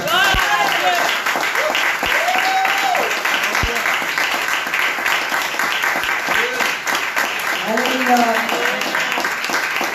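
A church congregation in Pointe-Noire, Congo-Brazzaville, applauds the Lord during a morning service: steady, dense clapping runs throughout, with voices calling and singing over it.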